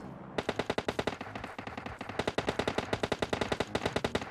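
Automatic gunfire from shooting in the mobile game PUBG Mobile, a loud close rapid burst of evenly spaced shots running almost continuously with one brief break, no talk.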